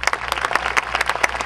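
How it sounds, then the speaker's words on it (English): An outdoor orchestra concert audience in Vicksburg National Military Park claps, many hands applauding in a brisk, uneven patter at moderate distance. "Let's give them a round of applause"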